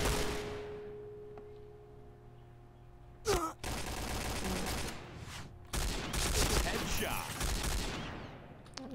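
G36C rifle fire in the PointBlank shooter game, a loud sharp burst near three seconds, then dense sustained automatic bursts over the second half, with faint game sounds between.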